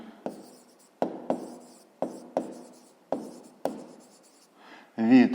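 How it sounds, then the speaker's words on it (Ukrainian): Chalk or pen strokes on a board or paper during a fifth-grade maths lesson: about eight sharp, close taps and scratches in an uneven rhythm, each fading quickly, then a brief louder rustle at the end; no talking. "Ну що ж, е, записуємо тоді, отже. Отже, пишемо відстань"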